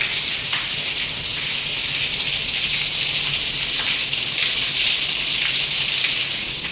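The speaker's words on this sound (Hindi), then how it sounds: "तेज पानी आ रहा है।" Heavy rain pours onto a balcony in a steady, dense roar of splashing water, close and loud, continuing without a break and with no talk over it.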